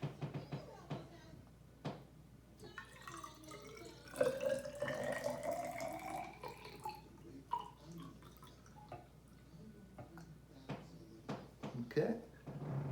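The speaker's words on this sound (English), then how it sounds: "I'm gonna pour it in your cup for you, Nora." Room-temperature water pours into a cup in a quick, gurgling stream with a rising pitch as it fills, preceded and followed by small taps and clinks, while people talk nearby.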